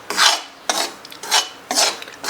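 Gram flour (besan) is stirred and roasted in a pan, a spoon scraping across the metal in four rhythmic rasping strokes, close and clear with no talk.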